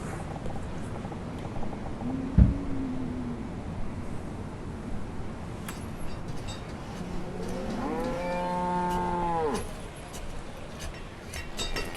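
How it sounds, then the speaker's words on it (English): Cows moo in a town within the city-building game Banished, with two long, low, drawn-out calls, one short and one fuller and wavering, against a steady ambient background. "this is what happens when you put cows in the middle of a town"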